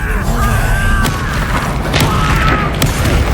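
Confringo fire spell exploding in Hogwarts Legacy combat, a loud booming blast with crackling impacts and whooshing streaks over a continuous battle rumble.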